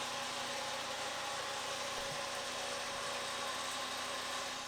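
A straight-piped 2.5L five-cylinder engine in an MK5 Volkswagen Jetta idles steadily and close, with a constant raspy exhaust drone and no talking.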